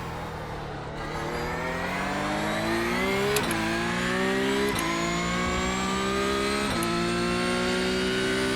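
A Porsche Cup race car in iRacing at Gillies-Villeneuve, its engine note climbing steadily through the gears with sharp upshift breaks roughly every one and a half seconds, loud and continuous with no talk.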